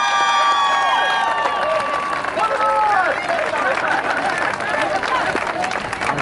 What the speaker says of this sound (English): Let's get a big round of applause for our 1981 boys basketball state champion Red Raiders.